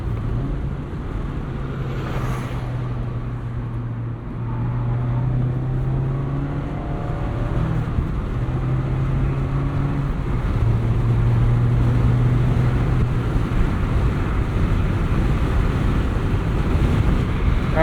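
A 2024 Mazda MX-5 Miata ND3 cruising on a rush-hour commute, with a steady low engine drone and a constant rush of wind and road noise heard from inside the small roadster.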